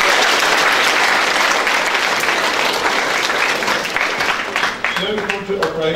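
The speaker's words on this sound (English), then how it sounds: "So there's an round of applause for Christopher again." Audience at a junior school prize giving breaks into sustained, loud applause, a dense wash of clapping that thins toward the end as a voice begins speaking over it.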